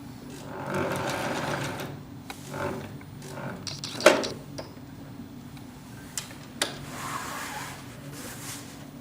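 A sewing machine stitches along the edges of a bag in short whirring runs with ticking needle strokes, pausing between bursts, up close with a few sharp clicks.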